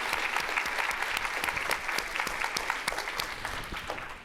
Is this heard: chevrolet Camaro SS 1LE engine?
no